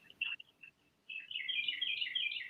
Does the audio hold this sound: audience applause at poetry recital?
no